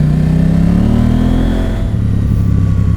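KTM 790 Adventure R motorcycle engine revs hard near the top of its range, a loud close whine rising in pitch before dropping back to a rough, lumpy idle-like throb.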